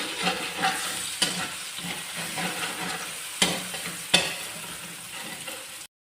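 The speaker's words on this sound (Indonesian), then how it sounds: "Kemudian kita masukkan putih telur yang sudah dikocok lepas tadi. Kita aduk-aduk." Beaten egg whites stirred and frying in a pan for Taiwanese-style fried rice, a steady loud sizzle with scraping stirs and a few sharp utensil knocks against the pan.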